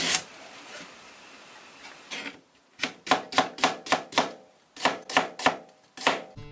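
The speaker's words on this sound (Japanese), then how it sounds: "キャベツや人参は千切りに、 玉ねぎは半分に切って薄切りにします" A knife chops cabbage, carrots and onion on a board for a summer vegetable soup, with slow scraping at first, then crisp rapid runs of close, loud cuts in quick bursts.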